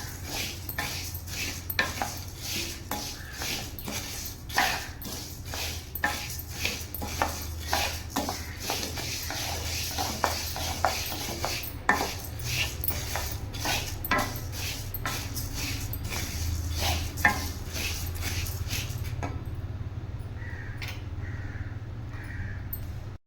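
Lentils dry-roasting in an iron kadai, stirred with a utensil that scrapes and clinks against the metal in repeated rhythmic strokes, close and fairly loud, ending abruptly near the close.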